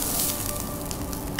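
Oven-roasted beef ribs sizzle and crackle in a pan with a continuous close, hissing fry and a brief stir at the end.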